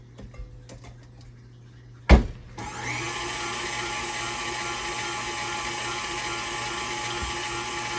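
After a clunk, an electric hand mixer starts up and runs at a steady whirring drone through oatmeal chocolate chip cookie dough, close and continuous to the end.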